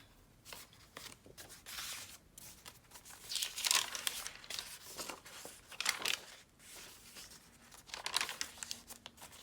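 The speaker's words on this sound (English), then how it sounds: "I love the sound of this coffee dyed paper." Crinkly coffee-dyed paper pages being handled and turned in a handmade junk journal, close-up bursts of crackling and rustling that swell and fade in waves with short quiet gaps between them.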